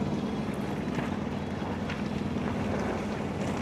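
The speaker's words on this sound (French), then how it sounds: "Là, c'est qu'il y a pas mal de vent." Wind blows hard across an open boat on a sailing trip from Bénodet to Groix, a dense, continuous roaring buffet that stays loud and steady throughout, with no one talking.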